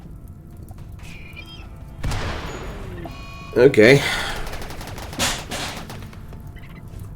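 Gunfire from lancers fighting squirrelopes in the RimWorld video game, a short burst of shots and booms in the middle of the clip against a steady game background, with a brief spoken word early on.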